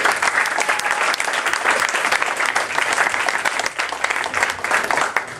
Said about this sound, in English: A round of applause for Nicola.